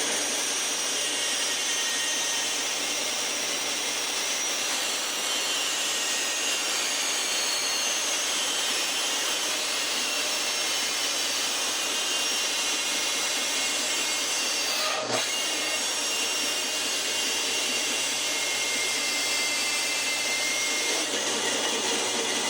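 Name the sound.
sander fine-tuning an exhaust pipe to fit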